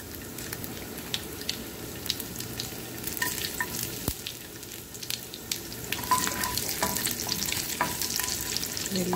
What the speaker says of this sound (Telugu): అలాగే వెల్లుల్లి కూడా వేస్తున్నా